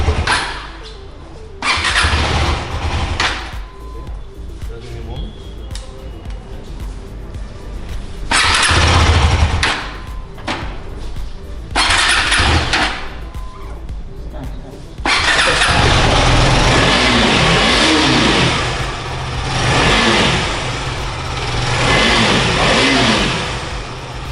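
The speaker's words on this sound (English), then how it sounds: "We start the vehicle and you can listen to the vehicle and have none of the noise." A KTM motorcycle engine cranks and fires, then revs repeatedly in loud bursts before settling into a rough, throaty idle with rising and falling throttle.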